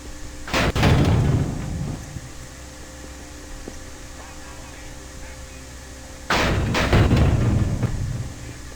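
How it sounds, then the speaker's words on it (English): Heavy banging on doors in the video game Garry's Mod, two loud booming bursts of repeated thuds several seconds apart, each fading into a reverberant rumble over a low steady hum. "Who keeps banging on these doors?"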